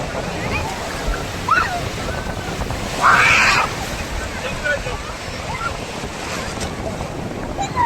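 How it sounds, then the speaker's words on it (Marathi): Ocean waves breaking on Bhatye beach, a black-sand shore in Ratnagiri, as a continuous rushing surf with wind buffeting the microphone, while people talk and shout excitedly nearby. "आली आली बोट आली, लाट आली लाट आली"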